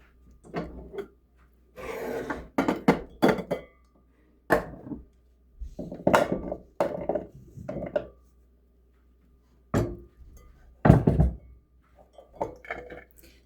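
Chopped pumpkin pieces tumble from a board into a cooking pot, giving a series of loud, close, irregular thuds and clatters in short bursts with pauses between them.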